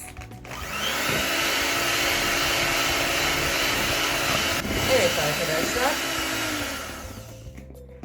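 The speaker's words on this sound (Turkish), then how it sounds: "Ve mikserle 3 dakika çırpıyoruz. İyice köpürtüyoruz." An electric mixer whips eggs and sugar, whirring steadily and loudly for several seconds before winding down, with a brief voice heard near the start.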